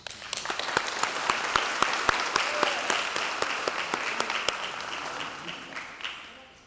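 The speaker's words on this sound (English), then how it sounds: "Please give yourselves a round of applause." High school graduates at their 2023 commencement applaud themselves in a dense, sustained round of clapping with sharp individual claps standing out, steady for several seconds before gradually thinning toward the end.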